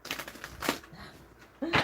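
Tarot cards shuffled by hand during a live card reading, a few short papery riffles and flicks close by, with a louder burst of shuffling at the end.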